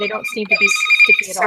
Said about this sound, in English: Sorry, that's my phone going off.